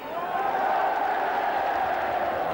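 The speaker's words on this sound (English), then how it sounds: "some ironic jeers from the crowd" A football crowd at a 1988-89 Torquay United match lets out a sustained, moderately loud mass of jeering voices that holds steady throughout.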